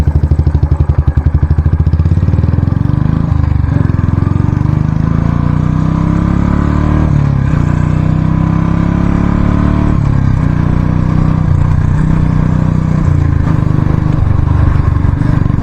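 Royal Enfield Standard 350 motorcycle exhaust at speed on a rough road, a loud, steady single-cylinder thump that holds close and continuous throughout, with brief dips and rises as the throttle shifts.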